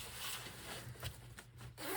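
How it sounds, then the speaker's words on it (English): A zipper on a sewing project is pulled closed in one steady, close rasping run lasting about two seconds, with no talk over it. "I'm gonna close the zipper back."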